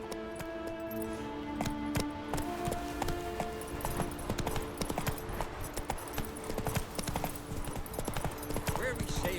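Horse hooves trot in The Witcher 3 video game, a steady rapid clip-clop close by with occasional light clinks, layered over sustained game music and ambience.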